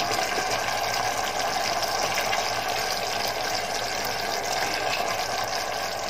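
Coconut milk pours steadily into a pot, a continuous close liquid rush that stays even throughout with no voices.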